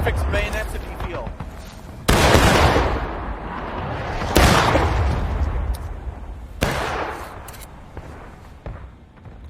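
Several loud, booming volleys of musket gunfire crack out at intervals during a War of Rights battle, each blast ringing into a long rumbling tail, with scattered shots and a voice talking in between.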